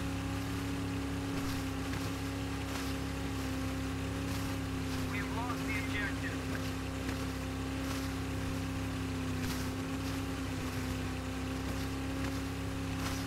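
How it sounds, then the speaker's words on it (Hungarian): A motorboat engine in the Battlefield 3 video game drones steadily at a constant pitch, with water hiss and wind noise layered over it, loud and continuous the whole way through. "Hajókázzunk, hajókázzunk."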